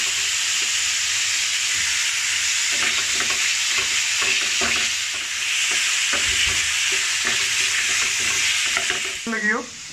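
Shawarma filling with spices sizzles loudly in a pan, a steady hissing fry punctuated by repeated scraping stirs, with a brief clatter near the end and no speech.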